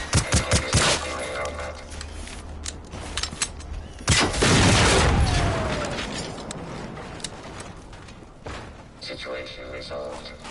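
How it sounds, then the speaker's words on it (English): Pistol fire in the video game Generation Zero: a rapid string of loud, close shots at the start, then a big booming blast that rolls into a long, fading rumble and scattered combat noise. "So I can still fire off the pistol here for a bit."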